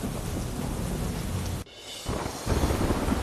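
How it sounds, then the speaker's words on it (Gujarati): Heavy rain pours down in Upleta, Rajkot, as a loud thunderclap rolls through, followed by a brief drop and then renewed, even louder rain hammering steadily on surfaces. "રાજકોટના ઉપલેટામાં ભારે વરસાદ"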